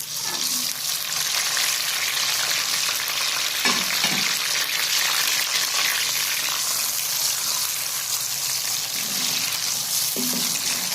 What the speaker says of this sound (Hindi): ये देखें, और प्याज हमारे ब्राउन हो रहे हैं।